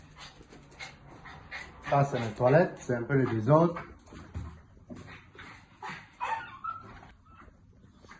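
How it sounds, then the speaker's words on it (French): An indoor dog whimpers and gives short yips and pants in a small home, the whining cries rising in a cluster while someone speaks nearby. "Ça c'est mon chien"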